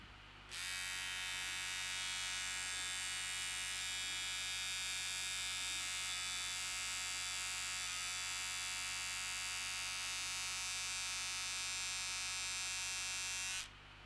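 A Veet electric dermaplaning trimmer runs as it shaves facial hair, giving a steady high electric buzz over a low mains-like hum. It starts abruptly, holds evenly for about thirteen seconds close up, then cuts off, with no talking.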